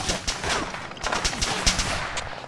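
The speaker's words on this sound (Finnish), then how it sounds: "Me ammutaan konetykillä." Autocannon fire from an armored personnel carrier in the Arma 3 video game: repeated sharp bursts of heavy shots in uneven clusters, loud and close, with no talking.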